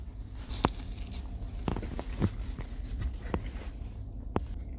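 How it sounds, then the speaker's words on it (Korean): Bites and chewing on a Subway All American sandwich with turkey, ham and lettuce, a handful of sharp crunchy clicks scattered irregularly over a close, muffled background. "그래도 한번 먹어보겠습니다"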